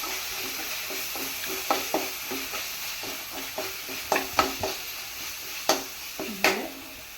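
Chopped chilli and ginger fry in a pan for a palak paneer gravy. A steady sizzle runs throughout, with repeated scraping strokes of a spoon stirring at an uneven rhythm, close and fairly loud, and no talking.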